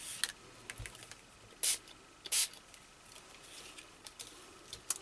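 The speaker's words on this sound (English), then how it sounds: "Just spray that through there." Dirty Martini ink spray is misted through a diamond stencil in a few short hissing bursts, two stronger puffs in the middle among small taps and handling noises, with no talking.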